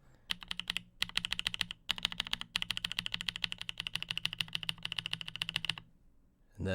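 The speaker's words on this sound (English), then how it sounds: "the other GMK keycaps sound like this" A mechanical keyboard with GMK keycaps is typed on in quick, steady runs, each keystroke a crisp, close clack, with two brief pauses before the typing stops near the end.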